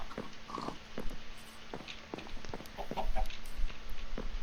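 Chickens clucking in a small Minecraft farm pen, a series of short scattered clucks and soft game sounds spread across the few seconds, moderately loud with no talking.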